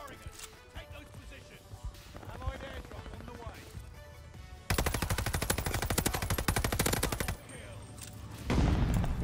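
A Cooper Carbine fires in the video game Call of Duty Vanguard in rapid, dense bursts, loud and close, alongside other game sounds and a player talking.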